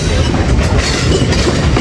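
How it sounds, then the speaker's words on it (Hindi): The 14 Down Awam Express approaches Taxila Cantt junction railway station, a loud, close rumble of wheels and carriages with steady rhythmic clatter filling the whole short stretch. "Taxila cantt junction railway station पे अप्रोच बना रही है 14 डाउन अवाम एक्सप्रेस।"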